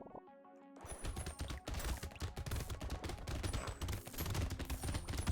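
Rapid SMG fire from the video game Brotato, an unbroken fusillade of sharp, tightly packed shots that begins abruptly after a brief musical lead-in and stays loud and dense throughout.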